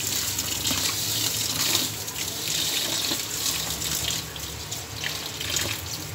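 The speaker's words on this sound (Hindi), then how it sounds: "और अब हम चावल धो लेंगे, ये चावल धो लेंगे इसको।" Rice is washed in a kitchen sink under a running tap, with steady splashing water that stays moderately loud and close and carries no talk.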